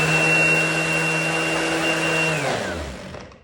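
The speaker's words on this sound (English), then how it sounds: "put it on the wood, then start your sander" An electric sander runs on a wooden surface with a steady, loud motor whir, close up, then winds down and stops near the end.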